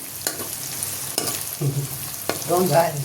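Shahi cumin seeds hit hot oil and sizzle loudly and close, with stirring scrapes throughout and the crackle building toward the end.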